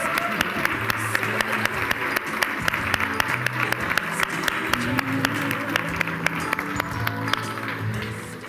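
Audience applauding the Capital One couples at a live Mr and Mrs show: steady, dense clapping from a large crowd that holds for the full stretch, with individual sharp claps standing out over a continuous wash of hands.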